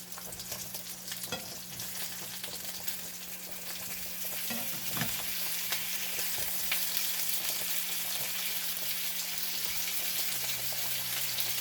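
Cooked hamburger patties sizzle in hot grease in a pan, a steady crackling hiss that continues throughout at close range, punctuated by a few brief clinks and scrapes.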